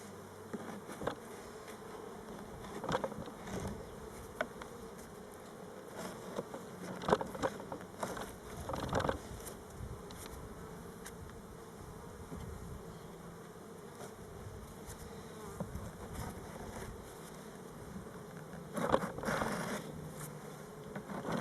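Honey bees buzz steadily during a spring beehive inspection, a close, continuous hum with brief louder swells, scattered with the clicks and scrapes of hive frames being handled.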